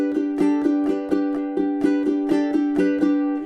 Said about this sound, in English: if you just keep this moving the whole time and you don't miss the strings at all